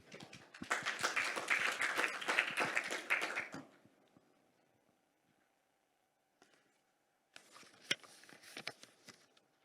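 Conference attendees at a hydrogen industry meeting applaud as a presenter is introduced. A few seconds of clapping fade into near silence, followed by a second, shorter burst of claps.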